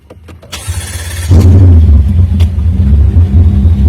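A BMW with water damage cranks briefly and catches, its engine then settling into a loud, close, rough idle that keeps rumbling steadily.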